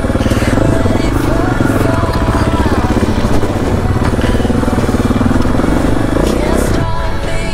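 A dirt motorcycle engine revs hard and constantly during a rocky hill climb, loud and close with a raspy buzzing drone and rising throttle swells, a voice faintly mixed in.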